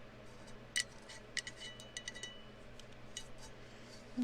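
Scissors trimming fabric for a tumbler, a series of quiet, sharp snips and light clicks at an uneven pace, close by in a still room, with no talking.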